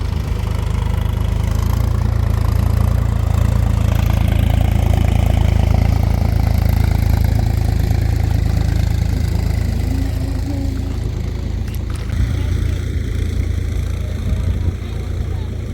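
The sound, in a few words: tractor engine running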